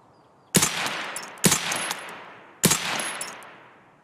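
Three sharp gunshots from Escape from Tarkov ring out at uneven intervals, each a loud crack followed by a decaying echo tail, with no talking.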